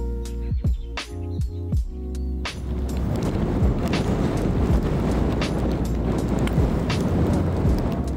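Strong wind, around 60 miles an hour, roars across an open seaside links golf course, buffeting the microphone in a dense, continuous rumble after a few sharp knocks at the start.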